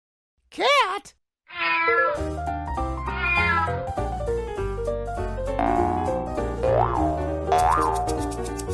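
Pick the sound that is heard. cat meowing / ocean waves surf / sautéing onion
cat meowing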